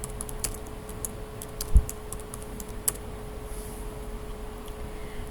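Keys clack on a computer keyboard as a search is typed, a sparse run of close, crisp taps with one heavier thump, over a low steady room hum.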